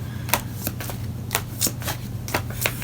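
A deck of tarot cards is shuffled by hand nearby, giving a run of quick riffling bursts in an irregular rhythm over a low steady hum, with no talking.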